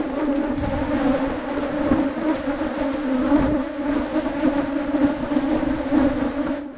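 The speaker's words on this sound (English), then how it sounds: "So when you open up a hive here, it is like a hailstorm of bees coming at you" A dense swarm of wild honey bees buzzes loudly and close, a thick, wavering drone of many wings.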